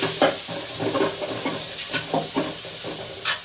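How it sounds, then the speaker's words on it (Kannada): Vegetables frying in a pan, a steady hiss and sizzle with repeated stirring knocks and scrapes at an irregular rhythm, close and moderately loud, no talk. "ಚೆನ್ನಾಗಿ ಫ್ರೈ ಮಾಡ್ಕೊಳ್ತೀನಿ"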